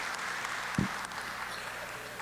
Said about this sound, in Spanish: Yo les pido que le demos un fuerte aplauso de bienvenida al doctor Pérez Pérez